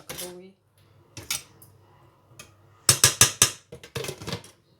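Metal lid set down on a pot of chicken pulao, giving a few soft clinks early and then a burst of sharp, close rattles and clanks near the end, with quiet gaps between.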